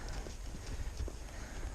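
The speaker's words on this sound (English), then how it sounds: "So my horse's feet are always going." A horse's hooves keep moving on the ground in a continuous soft clip-clop, close by under a dense wash of steady background noise.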